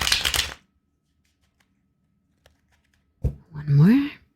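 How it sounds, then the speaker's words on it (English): A tarot deck is shuffled in a quick, crisp riffle of papery flutters up close, followed by a pause of near silence and then a person speaking. "I'm going to do a couple more shuffles."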